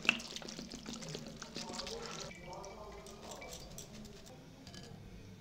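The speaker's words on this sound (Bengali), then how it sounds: "ঠান্ডা জল দিয়ে সয়াবিন ভালো করে ঠান্ডা করে নেব।" Cold water is poured over boiled soybeans in a kitchen, a soft splashing and dribbling of liquid that fades into light drips and handling noise.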